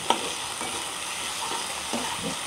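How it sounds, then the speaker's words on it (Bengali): Onion paste fries in a pan as a fish curry is being made, giving a steady, close hiss with a soft clink at the start and faint scraping stirs underneath. "এখন আমি দেব পেঁয়াজ বাটা, দিয়ে আবারও ভেজে নিব।"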